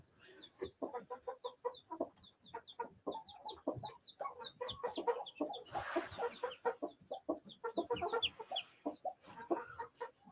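Backyard chickens clucking continuously in a busy, close chorus of short overlapping calls, with bursts of louder squawks throughout and no talking.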